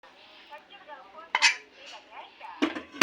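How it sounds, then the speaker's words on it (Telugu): A pressure cooker lid is set back onto the pot while cooking haleem at home, giving two sharp metallic clanks about a second apart among lighter kitchen rattles and clatter. "ఇప్పుడు మళ్ళీ కుక్కర్ మూత వేసేద్దాం"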